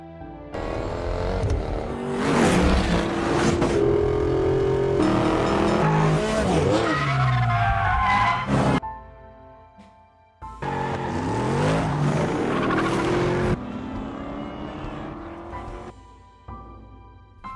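Race cars tear through a street race in a film scene, engines roaring and tires skidding and squealing loudly in two long bursts separated by a brief near-silent gap, with no talk.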